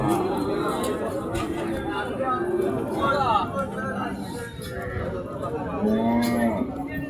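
At a crowded Bangladeshi cattle market, calves and cows give several drawn-out moos, one loud call near the end, over a steady din of voices and market chatter.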